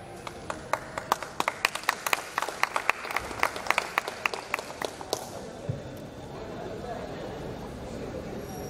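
A poetry recital audience in Bhilwara claps in scattered, distinct hand claps for about five seconds. The claps are fairly close and uneven, then fade out into a low room murmur.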